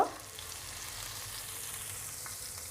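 Hilsa fish pieces go into hot soybean oil with a burst of sizzle at the start, then settle into a steady, close frying crackle that continues evenly throughout.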